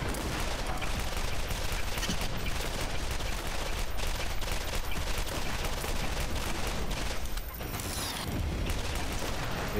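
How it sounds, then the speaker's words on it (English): A triple rocket launcher fires repeatedly in Borderlands, dense rapid blasts and gunfire layered into a loud, continuous barrage with a brief dip near the end. "He's firing a triple rocket launcher."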